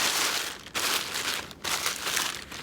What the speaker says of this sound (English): And shove it right into the plastic bag.